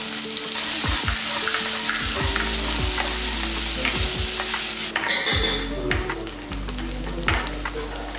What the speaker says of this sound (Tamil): 2 கைப்பிடி அளவுக்கு பெரிய வெங்காயம் போட்டுக்கோங்க.